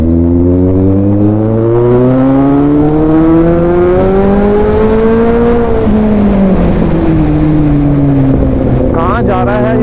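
A Kawasaki Z800 motorcycle's inline-four engine revs up and down while riding on the road, loud and close, its rising and falling harmonic whine over wind rush. A voice speaks over it.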